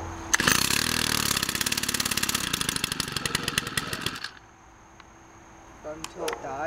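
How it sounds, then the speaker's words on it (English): An engine is cold started on choke with the throttle locked. It fires into a loud, rapid, buzzing run for about four seconds, then cuts out, leaving quiet with faint background sounds. "Put it on choke. We lock the throttle and see if it will start."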